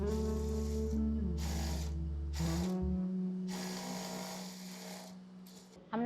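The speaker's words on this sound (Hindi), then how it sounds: "अब एक सिलाई और लगाएंगे बकरम को अटैच करने की।" A sewing machine stitches stiff buckram onto a salwar, its motor giving a steady hum with a sharp pitch change partway through and short bursts of needle clatter, close up with no talk.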